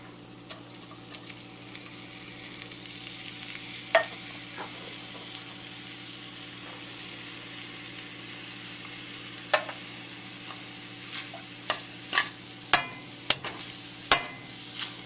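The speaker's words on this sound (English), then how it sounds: "I've got the corn and the egg sauteing" Corn and scrambled eggs sautéing for fried rice: a quiet, steady sizzle under a low hum, with sparse scrapes and clicks of stirring that grow sharper and more frequent toward the end.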